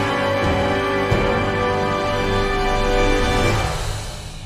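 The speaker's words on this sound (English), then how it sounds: "these are playable run patches from the EastWest Hollywood library." Sweeping orchestral runs from EastWest Hollywood library run patches rush over a held full-orchestra chord, loud and busy, with a sharp accent early on and a gradual fade at the close.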